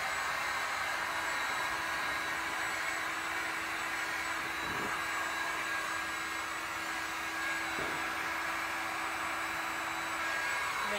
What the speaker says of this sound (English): Waiting for the heat gun to kind of get warm here.